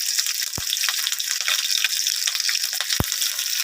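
Spiced meat sizzling and frying in a pan as onions go in, a steady close crackle of hot oil with two sharp knocks of a utensil against the pan.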